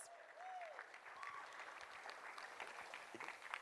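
A charity auction crowd applauds its donors, a long run of steady clapping from many people with a voice briefly audible at the start and scattered sharper claps near the end, heard at a low overall level.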